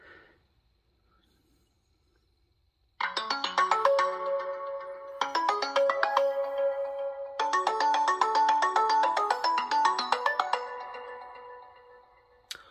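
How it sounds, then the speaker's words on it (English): Ringtone from a TCL A3X phone at full ringer volume through its bottom-firing speaker, a bright melodic pattern played in three bursts after a quiet start, fairly loud and close. "we will crank up the ringer"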